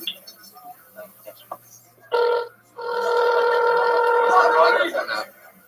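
A telephone rings back after a number is dialed. Two loud tonal ring bursts, a short one and then a longer one, rise over a quiet line with faint clicks before them.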